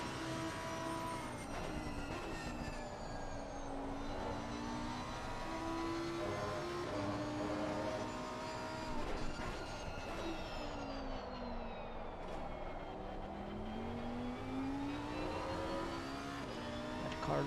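A GT3 race car heard from the onboard helmet cam as it laps Brands Hatch, its engine climbing and falling through gear changes in a continuous close, droning whine with no talk over it.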